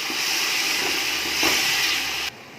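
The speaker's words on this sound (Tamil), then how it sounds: "இப்போ இஞ்சி பூண்டு பேஸ்ட்டோட பச்சை வாசனை போகிற அளவுக்கு நல்லா இதை வதக்கிடலாம்." Ginger garlic paste sautéing in a pan for chicken biryani gives a steady, close hiss and sizzle that runs evenly, then cuts off abruptly just before the end.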